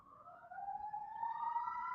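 A city emergency vehicle siren wails in a slow rising tone, fairly distant and steady over a low urban hum, with no voices.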